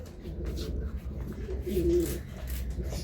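Homing pigeons coo nearby in a low, throaty murmur, one call standing out mid-clip over a soft rustling background.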